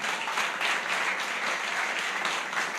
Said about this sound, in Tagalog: Palakpak para kay Lord.